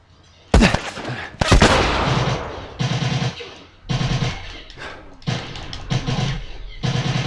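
Video game gunfire in The Last of Us: a couple of sharp loud shots followed by a series of bursts of rapid firing separated by short pauses, fairly close and prominent.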